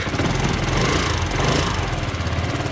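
A Yamaha X-Max 250 scooter with a repaired intake idles steadily, its engine a fast, even putter that stays close and constant, with no voices.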